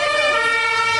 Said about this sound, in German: deswegen hat er dir einen Krankenwagen gerufen